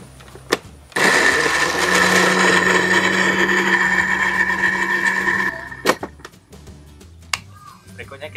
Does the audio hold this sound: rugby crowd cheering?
no